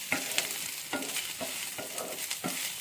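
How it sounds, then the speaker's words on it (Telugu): Onion and meal maker (soy chunks) frying in a pan for a tomato curry, stirred in steady strokes that scrape about five times over a continuous close sizzle, with no talking. "ఇప్పుడు మంచిగా ఇలాగా కలిపెడదాం"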